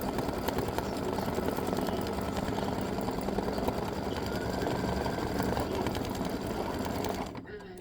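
An embroidery machine stitches a patriotic table runner design, its rapid, steady needle chatter running loud and close for several seconds before slowing and dropping off near the end.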